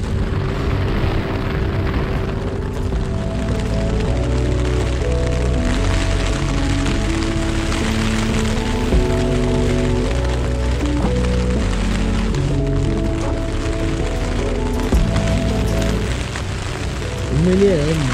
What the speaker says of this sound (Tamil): நல்ல மழை, நல்ல காற்று, குளிரு